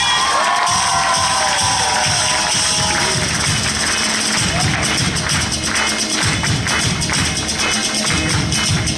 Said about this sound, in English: Please give a big round of applause for